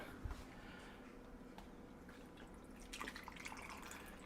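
Milk tea is poured over tapioca pearls and ice in a shaker cup, giving a faint, soft trickle and light drips. The sound swells slightly toward the end.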